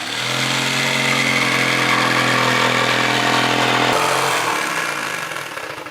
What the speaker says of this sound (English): I'm gonna use the jigsaw